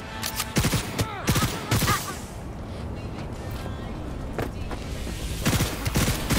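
Bursts of smart gun fire in the video game Cyberpunk 2077, rapid overlapping shots in loud clusters with gaps of quieter combat noise between volleys.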